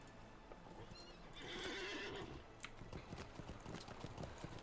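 A festive azure horse mount in the LOTRO video game lets out a loud whinnying neigh, followed by a quick series of clip-clopping hoof beats, heard alone without speech.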